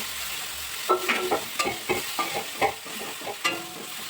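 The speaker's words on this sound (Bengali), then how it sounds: "এবার আদা রসুন পেঁয়াজের সাথে ভালো করে ভাজা" Paste of onion, ginger, garlic and green chilli fries and sizzles in a pan for a prawn malai curry, with a steady crackle and repeated sharp scrapes of a spoon stirring, close and fairly loud, no talk.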